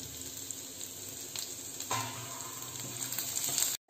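Red chilies and curry leaves hit onions frying in oil for a South Indian drumstick curry, giving a steady, close sizzle that swells louder partway through and continues until an abrupt stop.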